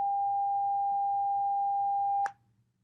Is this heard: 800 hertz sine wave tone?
yes